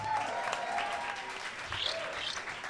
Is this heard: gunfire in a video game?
no